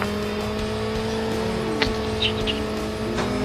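A vehicle drives in the mobile shooter game Call of Duty Mobile, giving a steady loud engine drone with shifting pitch and brief tire noises, close and continuous, with no talking over it.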